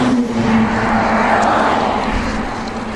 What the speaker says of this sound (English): I'm finding quite a bit of traffic out here.